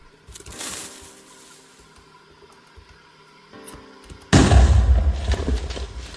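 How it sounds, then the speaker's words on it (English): A Minecraft TNT x500 from the Mega TNT mod detonates in the video game, a sudden loud booming explosion with a sustained rumbling roar after a few quiet seconds of faint game sounds. "it makes an explosion that is 500 times bigger than a regular TNT"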